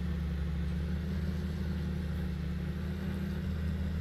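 An old John Deere 8R tractor with front duals, hitched to a field cultivator in Farming Simulator 19, runs with a steady low engine rumble and no voices.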